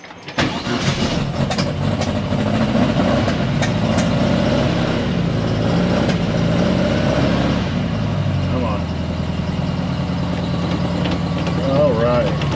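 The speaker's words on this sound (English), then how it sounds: "Hope she's going to idle there." A 1956 Volkswagen Beetle engine, long abandoned in a garage, cranks, catches and runs roughly at close range, loud and continuous, with a voice speaking briefly over it.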